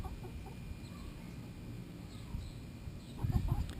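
Backyard chickens clucking softly around a simple homemade treat dispenser, low scattered murmurs and clucks under a faint outdoor background, growing a little busier and louder toward the end.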